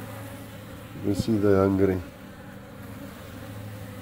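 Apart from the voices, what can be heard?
swarm of bees buzzing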